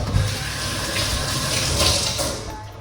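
Running tap water splashes steadily over hands as beetroot is rinsed off, a close, continuous gushing flow at a sink.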